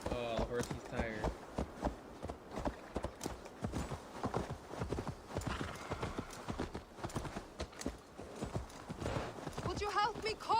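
Horse hooves clop in an uneven, steady rhythm on hard ground in Assassin's Creed Valhalla, the horse tired, mixed with snorts and occasional voices talking over them.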